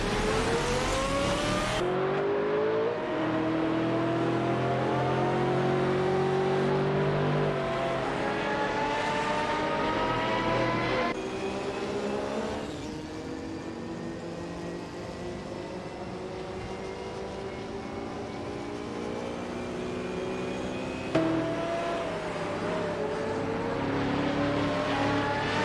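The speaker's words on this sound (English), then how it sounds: "Koenigsegg driving a BMW M3 is also in position 6." Several GT race cars run at Monaco in a racing video game, their engines droning and revving continuously with rising and falling pitch as cars shift gears, loud and steady throughout with no talking.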